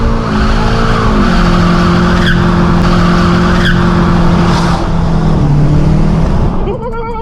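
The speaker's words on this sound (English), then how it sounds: "when traction control is fully off, the car can wheel spin as though it was rear-wheel drive" A 2015 VW Mk7 Golf R with its 2-litre TSI engine spins its wheels with traction control off, a loud sustained tire squeal over the engine's steady note that fades near the end.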